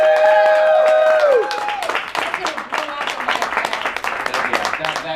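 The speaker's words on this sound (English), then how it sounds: "Big round of applause." A big round of applause and cheering on a radio show recording, starting after a sweeping synth tone and continuing as dense, moderately loud clapping to the end.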